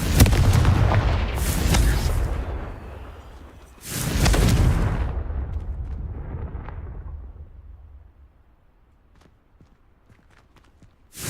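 The Confringo blasting spell goes off in Hogwarts Legacy as two loud, close, broadband bursts with rumbling tails a few seconds apart, then a fading quieter ambience with faint clicks.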